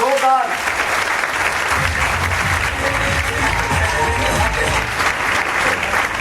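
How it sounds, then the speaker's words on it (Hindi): Loud, sustained applause from a seminar audience, dense clapping that fills the whole stretch and rises after a brief opening, with crowd noise mixed in. "जोरदार तालियां, जोरदार।"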